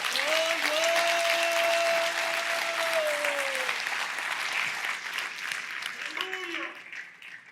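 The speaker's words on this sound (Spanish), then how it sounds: "Dale un aplauso al Señor bendito." A church congregation applauds during a Spanish-language sermon, dense sustained clapping that stays loud throughout while sustained vocal tones, like a voice or music, carry over it.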